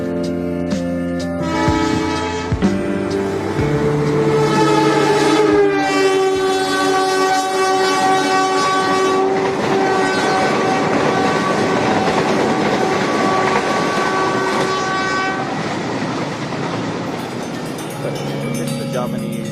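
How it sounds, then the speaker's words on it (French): Train passing through Semarang, a loud continuous rumble of rail cars with long sustained horn-like tones layered over it, steady throughout and close. "Ces trains qui traversent Semarang et le Lawang Sewu"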